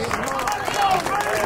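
Spectators at a high school baseball game between Edwardsville and Belleville East give both teams a brief round of applause, with clapping and crowd chatter blended together.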